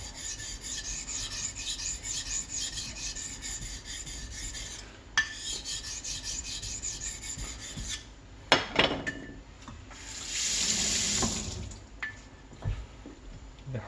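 A sashimi knife is sharpened on a whetstone, making repeated rhythmic gritty rasping strokes up close, broken near the end by several scrapes, a brief hiss and a few louder knocks.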